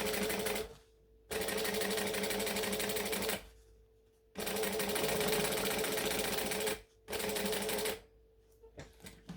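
A sewing machine stitches a bag in three loud, steady runs, each stopping suddenly for a needle-down pivot before the next run begins.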